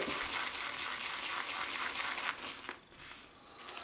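Broadband watery swishing and sloshing, steady and close, as a badger-hair shaving brush is dipped and worked in water, tapering into softer splashes near the end.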